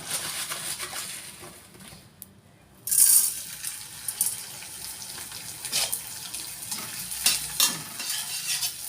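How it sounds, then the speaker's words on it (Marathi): Edible gum, magaj and pumpkin seeds frying in ghee, a close, busy sizzle with a brief quieter gap before it flares up again, and intermittent stirring scrapes throughout. "मगजबी आणि पम्पकिन सीड्स आणि डिंक खोलवून घेत आहे तुपामध्ये फुलवून घेत आहे"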